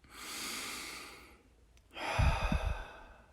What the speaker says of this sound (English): deep breaths